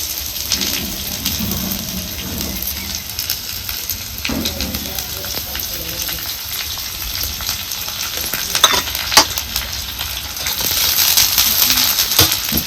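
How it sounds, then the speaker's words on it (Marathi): Onion frying in a pan for a village-style bhajji curry, with oil being added, makes a steady sizzle and crackle. Spoon scrapes and stirring knocks sound occasionally, and the sizzle rises louder toward the end. "असा आपला कांदा भाजत आलेला आहे चांगला भाजलेला आहे त्यात आता आपल्याला घालायचे तेल"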